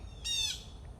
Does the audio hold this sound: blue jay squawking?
yes